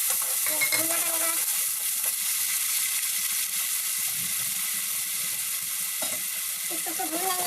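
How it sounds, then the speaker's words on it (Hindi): An onion and tomato mixture fries in a pan on a home gas stove with a loud, continuous sizzle and occasional stirring. Brief voice-like sounds surface at moments. "ये भूनना पड़ेगा।"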